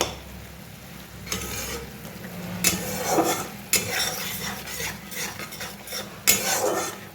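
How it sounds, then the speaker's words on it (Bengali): Spices being stirred and fried in a pan for a pumpkin and potato dish, with repeated scraping strokes of a spatula against metal over a soft continuous sizzle, close and moderately quiet. "মশলাটা একটু কষানো হবে"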